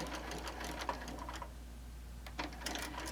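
Bernina sewing machine with a walking foot stitching quilting rows, a soft rapid mechanical patter running steadily close by with a low hum beneath and a brief lull in the middle.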